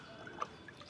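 Water is poured into a cut plastic bottle being made into a simple fish tank, giving a brief, faint trickle with a few small splashy drips, close and quiet.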